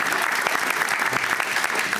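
Dense, steady applause from an audience at a Lexington County GOP gathering, loud and continuous throughout with no gaps.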